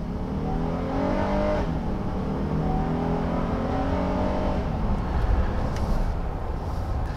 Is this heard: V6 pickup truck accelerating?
yes